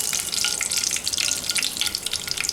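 Mustard seeds splutter and crackle in hot oil for a Tamil leeks and potato gravy, a steady fizzing sizzle with dense bright pops, close and alone without talk.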